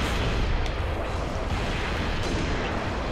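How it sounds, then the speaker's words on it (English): A rocket explosion in the Halo Reach game gives a dense, loud rumbling blast with a sustained roar and a couple of sharper cracks layered in, close and continuous for a few seconds without voices. "Noble kills himself with rockets"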